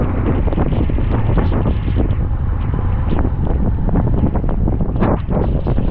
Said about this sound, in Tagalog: Grabe, lakas na hangin.